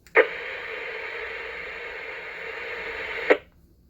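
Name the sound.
two-metre radio repeater tail after transmission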